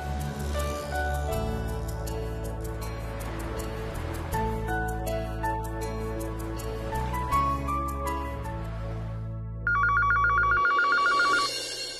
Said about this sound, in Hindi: तब तक मैं एक काम करता हूँ, कंपनी में फोन करता हूँ।